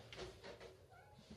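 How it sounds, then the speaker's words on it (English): A cat gives a single faint, short meow, heard quietly indoors among soft background noise. "Let me just let the cat out."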